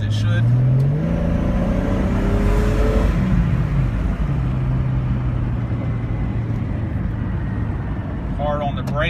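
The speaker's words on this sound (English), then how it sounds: "Go ahead and do a hard acceleration to show you that the engine and transmission function as it should." A 1999 Jeep Cherokee Sport XJ with a Flowmaster exhaust accelerates hard, its engine note climbing through gears with a shift partway, loud and close from inside the cabin amid steady road noise.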